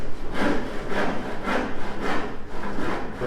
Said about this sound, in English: this is how he's drilling holes where he's going to put the drops for the lights